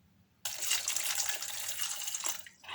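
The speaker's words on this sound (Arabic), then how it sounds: "غادي نديرها في الكاسرونه وغادي نخوي عليها الماء" Water pours steadily into a cooking pot holding peeled garlic cloves, a close, loud gushing stream that starts abruptly and runs for about two seconds before tapering off.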